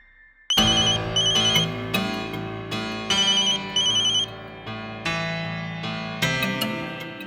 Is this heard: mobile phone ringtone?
yes